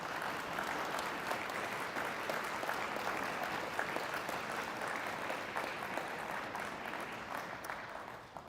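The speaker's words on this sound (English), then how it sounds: "Please give them all a round of applause." Steady, sustained applause fills an arena at the opening ceremonies of the Alberta senior curling championship, a dense crowd clapping evenly throughout before fading slightly at the end.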